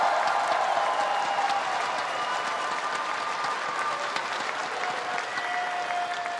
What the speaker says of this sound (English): Vancouver, please a round of applause one last time for your champions